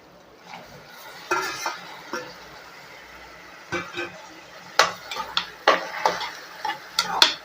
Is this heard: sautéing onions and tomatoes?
yes